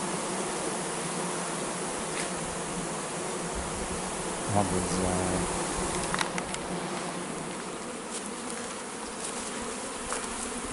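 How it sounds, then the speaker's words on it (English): Bees buzzing around a queen bee in Jamaica, a continuous droning hum of many insects close by, with brief handling noises midway and a short spoken remark. "They turn around and they say that's a queen bee right there."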